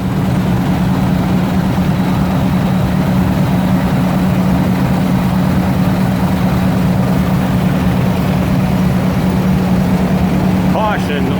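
Antique engines run in an engine barn at a show in Oakley, Michigan, a loud, steady, dense mechanical roar with a low hum underneath that fills the whole stretch.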